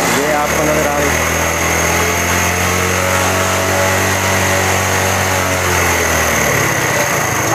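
A Honda CD70 motorcycle's petrol engine drones loudly and steadily close by as it revs up during mixture adjustment, its pitch climbing before the revs drop away near the end.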